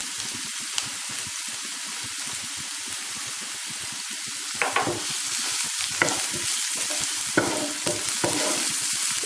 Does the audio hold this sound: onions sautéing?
yes